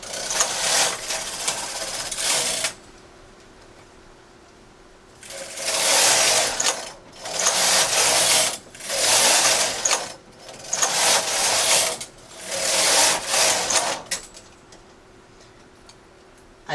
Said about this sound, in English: I knit across so these stitches come off the needles.